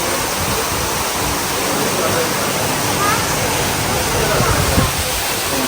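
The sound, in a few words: waterfall inside a hotel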